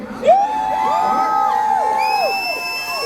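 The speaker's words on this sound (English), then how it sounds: "I heard you sound like a pretty energetic crowd." Loud crowd cheering at a live motivational event in Washington DC, with sustained whoops and yells riding over a dense roar that rises sharply and then holds steady for about three seconds.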